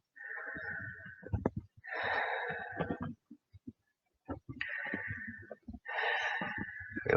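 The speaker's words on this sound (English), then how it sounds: "Take some deep breaths" Deep, slow breaths during a restorative yoga session, each long drawn-out inhale and exhale rushing close to the microphone in several separate waves with short quiet pauses between them, and no talking.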